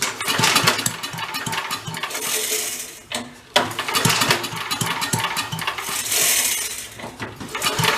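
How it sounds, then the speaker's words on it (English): Vintage Mite-e-Lite generator engine being cranked as it tries to start and get past its decompression, a loud, rough mechanical churning that sputters, cuts out briefly, then resumes without catching. "I'm hoping it kicks and gets past the decompression. Let's see the RPMs get up."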